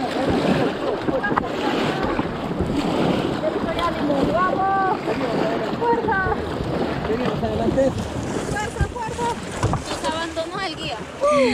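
Paddles splash and stroke through the water as a team rows a boat along a river in the Amazonas region, with wind and water noise throughout and voices calling out over it.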